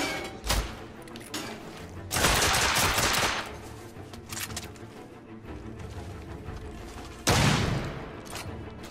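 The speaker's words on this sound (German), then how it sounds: "Diese blöden Schrotflinten." Two loud shotgun blasts in the video game The Order: 1886 boom out a few seconds apart, each with a broad burst and short decaying tail, over quieter background game sound.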